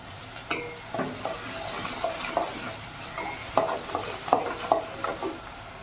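Sliced onions with added salt sizzle in a pan while being stirred, a low steady frying hiss broken by repeated scraping knocks of the spoon, close and moderately loud.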